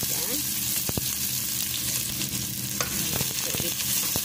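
Onions and garlic sizzle and crackle steadily in hot oil, close and loud, with occasional stirring scrapes and knocks against the pan throughout.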